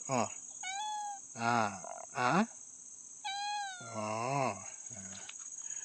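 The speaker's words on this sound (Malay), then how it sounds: "Si kucing saya ini pun mau panjat pokok jerin juga deh sahabat." A cat near a jering tree in a garden meows up close about five times in short rising and falling calls, over a steady high insect drone.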